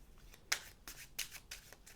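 Tarot cards shuffled by hand in several quick riffling bursts, close and fairly quiet, with no talking.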